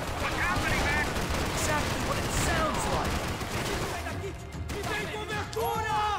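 Shotgun blasts and other gunfire during Max Payne 3 play, a busy barrage of shots mixed with game sound and voices throughout, fairly steady in level.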